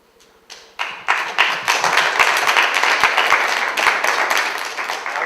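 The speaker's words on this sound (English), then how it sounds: "I'm not used to having people clap like this." College students applaud a congressional candidate in a hall, the clapping starting thin and swelling quickly into steady, loud, close applause that holds for several seconds with sharp individual claps.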